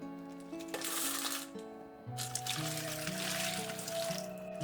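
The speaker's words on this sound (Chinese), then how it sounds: "用手给它转动一下即可，这样就能把这些食材上面的灰尘给它清洗下来" Dried red dates, goji berries, lily bulbs and chuanbei swirled by hand in a basin of water to rinse off dust, giving soft close splashing and trickling with gentle rhythmic movement.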